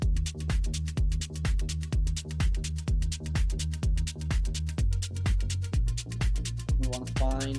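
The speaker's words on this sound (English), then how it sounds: "Fire breaths are in through your nose and out through your nose very quick." Rapid fire breaths forced in and out through the nose in a quick, steady rhythm of about three per second, sharp and close, over a steady musical backing.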